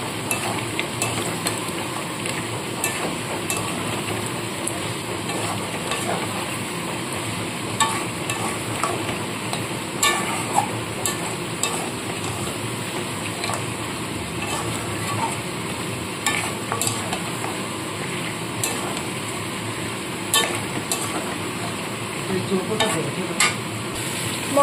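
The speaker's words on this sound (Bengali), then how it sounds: "গুঁড়ো মশলাটা দিয়েও খুব ভালো করে আবার কষাতে হবে।" Mutton korma cooks with ground spices in a pan, giving a continuous close sizzle and frying crackle as it is stirred and scraped throughout, steady and unbroken for the whole stretch.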